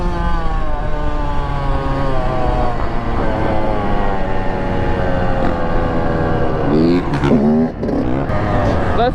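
A Raptor 700 and a 450 off-road machine rev hard together, a dense loud engine roar with rising and falling pitch throughout and a sharper rev sweep near the end.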